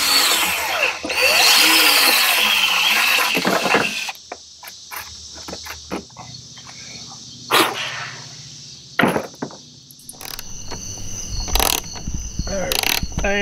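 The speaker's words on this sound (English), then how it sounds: "drill some holes in the wood, and it'll be good to go." Short bursts of a power drill boring holes into wood on a boat's mounting surface, several separate whirring runs with pauses between, set against steady outdoor insect chirping.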